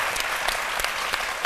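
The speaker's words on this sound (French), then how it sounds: "Ça s'applaudit, félicitations." Steady applause from a television studio audience on a midday talk show, dense and continuous clapping at moderate loudness with no voices over it.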